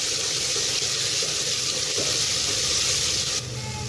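Aloo keema with ginger-garlic paste frying in a pan, a steady loud hiss and sizzle that runs continuously from start to finish with no one talking.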